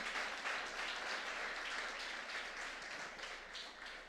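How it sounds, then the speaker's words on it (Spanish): Church congregation applauding during a Sunday family-day service, a steady wash of many hands clapping at once that holds evenly throughout without any voices rising above it. "¿Cuánto le da un aplauso fuerte al Señor en esta mañana?"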